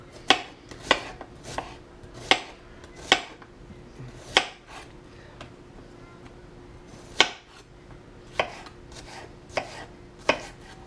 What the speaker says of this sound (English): They're not as bad when you cut them.